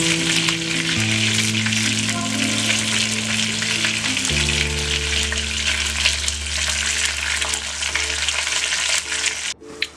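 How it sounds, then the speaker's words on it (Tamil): Chicken pieces for Arabian kabsa rice fry in hot oil with a loud, continuous sizzle and crackle. A steady low hum runs underneath, and the frying stops abruptly near the end. "எல்லா சிக்கனும் இந்த மாதிரி பொரிச்சு எடுத்து வச்சுக்கோங்க."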